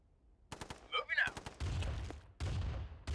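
Bursts of gunfire from units in a Command and Conquer Nod campaign battle, a few sharp rapid cracks followed by heavier rumbling volleys, loud and close, with speech-like sounds between shots.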